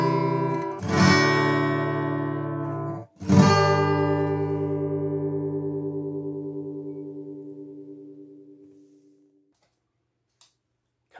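Fretted notes on a cheap pink plastic toy guitar from Home Bargains, sounding out of tune: two loud plucks a couple of seconds apart, each ringing and decaying slowly into silence, with a faint click near the end.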